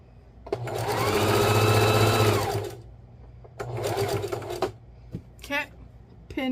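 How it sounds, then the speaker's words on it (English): A sewing machine stitches pillow fabric in close bursts: one long steady run, a pause, then a shorter run, with handling clicks and a person talking quietly between the stretches. "we're going to sew a little bit more till we reach"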